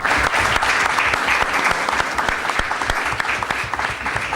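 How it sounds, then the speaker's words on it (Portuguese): Steady applause from an audience at the opening session of an institute meeting, dense and continuous clapping filling the whole moment at an even level. "Não era para baterem palmas"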